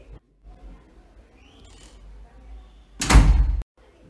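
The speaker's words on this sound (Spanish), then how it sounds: "cierra la puerta" A door shuts with a single loud, abrupt bang after a quiet stretch with faint rustles, heard close in an indoor room.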